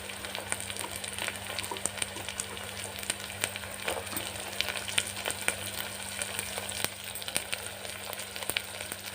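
Carrots sizzle with onions in a hot pan for a vegetable pulao, giving a steady, close crackle and hiss that runs unbroken throughout with no talking.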